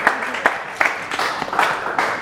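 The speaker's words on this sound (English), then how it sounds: "Round of applause!" Scattered hand clapping from a small comedy club audience in Brisbane's West End, uneven bursts of claps building and fading over a couple of seconds.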